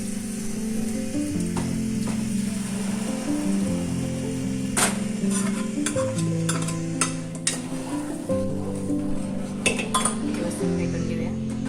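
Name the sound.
stirring dal into cooking green chillies in a pan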